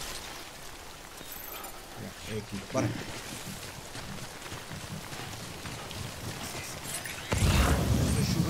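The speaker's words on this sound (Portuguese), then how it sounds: "Ui, está a chover já." Rain falls in the video game Death Stranding, a steady hiss of drops on surfaces that swells louder near the end, with someone speaking briefly over it.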